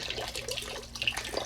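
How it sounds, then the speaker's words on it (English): Water drains out of an Apex cold plunge water filter unit, a faint irregular trickling and splashing with small drips. "Just let all the water run out."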